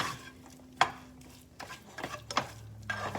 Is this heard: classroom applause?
no